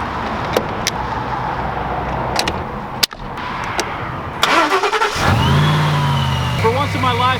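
A Ford Raptor cranks and fires up after a jump start, a brief starter whir rising into an idling engine with a steady low rumble, after a stretch of background noise and a few clicks.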